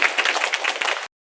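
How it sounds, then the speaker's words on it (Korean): A church congregation applauds together in a dense, steady burst of clapping that runs for about a second and then stops abruptly. "다시 한번 힘차게 박수로 축복하겠습니다"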